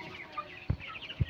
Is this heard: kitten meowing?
no